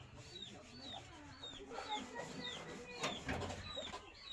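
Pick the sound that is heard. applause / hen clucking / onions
hen clucking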